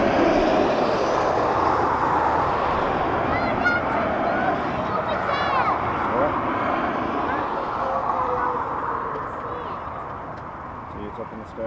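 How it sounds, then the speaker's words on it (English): A WestJet airliner departs Dublin Airport with a steady, loud engine roar that slowly fades, while geese honk intermittently nearby. "WestJet departing."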